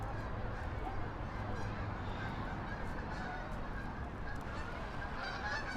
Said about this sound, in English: Got some Canada geese.